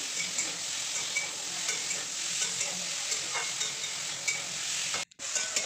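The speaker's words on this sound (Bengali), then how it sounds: "দেখো আমার কচু আলু আর কত সুন্দর করে কষিয়ে নিচ্ছি" Taro and potatoes sauté in a pan with a steady, close sizzle and soft stirring that runs almost without a break, then cuts out briefly near the end.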